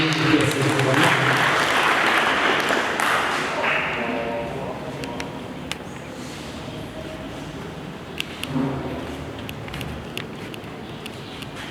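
An audience claps at an art event in Bujumbura, Burundi: loud, dense applause for several seconds that fades into quieter crowd sounds, with a few sharp taps and a voice rising in the background.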